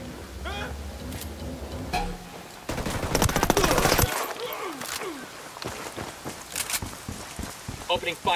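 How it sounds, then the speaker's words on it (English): Bursts of automatic gunfire in a tactical shooter video game, loud and close, with a sustained volley in the middle, scattered shots and squad voices talking around it. "Opening fire on these fuckers."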